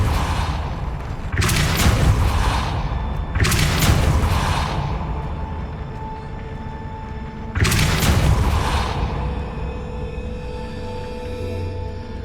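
In the Hogwarts Legacy video game, three heavy booming spell blasts of Depulso land one after another, each a loud broadband burst that rumbles and fades, with a quieter ambient hum between them.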